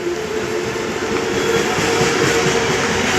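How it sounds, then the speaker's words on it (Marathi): A Mumbai local train pulls into Ghatkopar station with a steady, loud rumble of wheels and carriages that continues throughout. "डोंबिवली फास्ट कल्याण लागली आहे"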